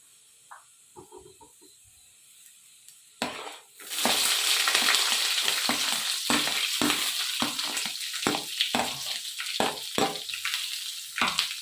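Sliced onion and green chilli hit a hot pan with curry leaves in a village kitchen, bursting into loud, steady sizzling, broken by repeated scraping and stirring strokes, after a quieter opening of light clinks.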